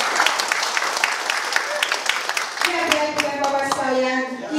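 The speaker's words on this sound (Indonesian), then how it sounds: "Kita tepuk tangan" Audience applauding at a talk on financial management for workers, a lively burst of many hands clapping with sharp individual claps, mixed with some voices and a short musical tone near the end.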